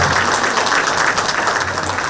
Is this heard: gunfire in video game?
no